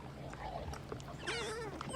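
A dog whimpers briefly in the film Snatch, a short, thin, rising whine heard quietly over a low background murmur.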